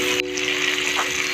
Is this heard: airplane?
no